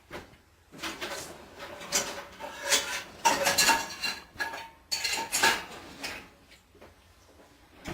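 Metal pans and cookware clatter and scrape in a home kitchen as someone rummages for a skillet, a run of irregular clanks and knocks of varying loudness, close by with no talking.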